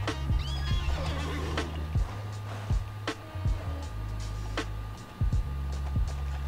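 A horse in the Alicia Online video game gives a loud neigh, followed by steady clip-clop hoofbeats and soft game sounds, heard alone without talk.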